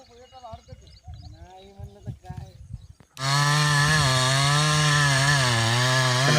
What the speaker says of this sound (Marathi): एक जण आहे झाड खालून मशीन सुरू आहे